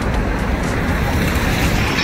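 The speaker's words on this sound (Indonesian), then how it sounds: "Angin kencang." Strong wind in cold weather on a street in Japan, a steady loud broadband roar buffeting the microphone throughout, with no talk.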